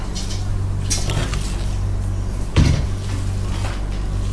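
Plates and dishes are handled in a home kitchen during an Eid meal of ketupat and opor, with scattered clinks and a sharper knock near the middle over a steady low hum.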